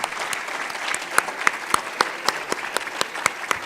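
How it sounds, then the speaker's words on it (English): An audience applauds Tunisia's delegation at a youth policy closing session, a steady wash of clapping with sharper individual claps standing out, fairly loud and continuous throughout. "Let's clap for Tunisia's delegation."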